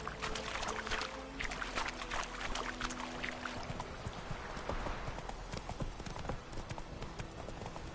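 Horse hooves clip-clop at a steady trotting rhythm in The Witcher video game, close and continuous over a soft ambient wash, with no talking.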